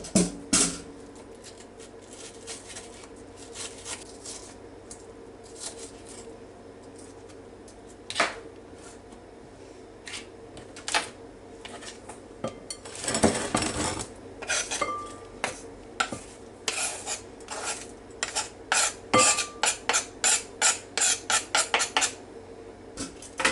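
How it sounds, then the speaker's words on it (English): An onion being cut with a knife on a board for cucumber salad: repeated sharp taps and knocks, scattered at first and then in quick rhythmic runs, close and fairly loud with no talking. "So we'll finish cutting this one with a knife."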